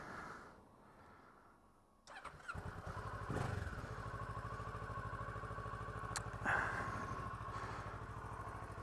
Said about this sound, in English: If I start the bike.